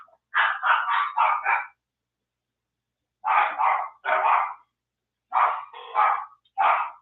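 Dogs bark in quick clustered volleys of three or four yaps, separated by silent gaps, sounding close and fairly loud with no talking.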